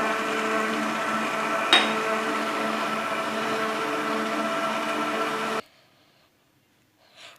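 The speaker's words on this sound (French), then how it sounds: "je vais pétrir" A stand mixer kneads dough for mini stuffed pizzas, making a steady, loud motor whir with one sharp knock partway through, then stopping abruptly into near silence.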